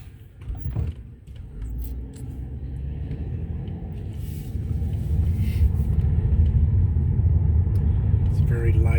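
An orange car rolls past on a street in a seaside suburb town centre, a low engine and tyre rumble that builds and holds steady near the microphone.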